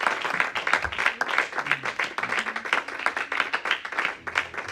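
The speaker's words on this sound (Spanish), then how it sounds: "No sé si le damos un aplauso fuerte al Señor." A church congregation claps during a Spanish-language service, the applause dense and steady throughout with rhythmic clapping mixed in, some voices underneath.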